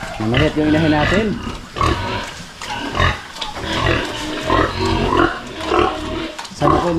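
A sow grunts on a Filipino backyard pig farm after farrowing a litter of hybrid-breed piglets, with repeated low grunts close by, heard alongside ongoing talk in Tagalog.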